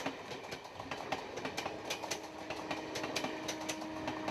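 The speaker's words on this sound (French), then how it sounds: "Rupchan Taneja conduit un train qui traverse le parc national de Rajaji" Train rolling through Rajaji National Park in India, a steady broadband rumble with sharp repeated clicks of wheels over rail joints and a faint sustained tone, continuous for several seconds with no voices.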